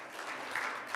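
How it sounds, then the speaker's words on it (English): A church congregation claps together, a dense, steady burst of applause filling a large room for about a second. "Could I get everybody in here, please, to clap your hands?"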